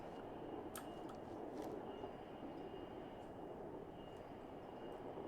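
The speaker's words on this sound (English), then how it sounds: "That sounds like a train." A train rumbling in the Fallout 76 game world: a continuous low, heavy rolling roar with faint metallic clanks and squeaks on top, steady and moderately distant, with no voices.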